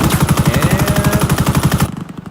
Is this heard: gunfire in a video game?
yes